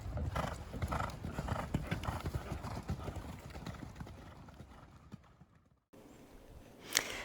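A ridden horse clip-clops along in a steady, close rhythm of hoof falls, the footsteps fading before a short cut and a brief louder knock at the end.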